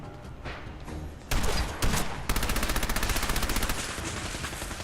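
Rapid gunfire from a gun in Fallout 4, opening with sparse shots and then breaking into loud, sustained automatic bursts that carry on steadily to the end.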